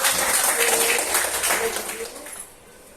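A classroom group applauding together, a dense burst of clapping that fades over a couple of seconds as a voice speaks over it.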